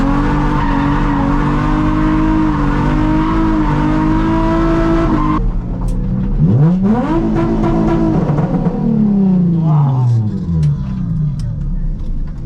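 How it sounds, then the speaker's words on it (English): A Nissan 350Z drift car, loud and close: a steady engine drone, then rising and falling revs with squealing, skidding tires. "it is a 350Z drift car."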